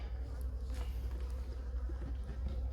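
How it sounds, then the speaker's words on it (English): Honeybees in an opened hive box from a two-way mating nuc setup give off a steady, close, continuous drone, low and even throughout with no pauses. "it's also a good box of bees"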